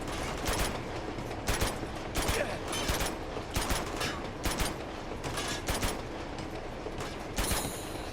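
Repeated bursts of rapid gunfire in the video game Uncharted 2: Among Thieves, several short volleys spaced across the clip at moderate distance, with faint mechanical clicks between them.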